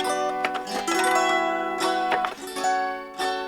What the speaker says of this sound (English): Carry-on size harp that has 5 or 6, 7 little push things